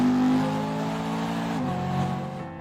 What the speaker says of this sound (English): there is one good reason for keeping this V8. It's the sound it makes when you do this.